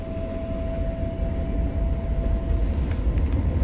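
A Tyne and Wear Metrocar runs between Sunderland and University, a steady loud onboard rumble of wheels and motor with a thin sustained whine, with no talking.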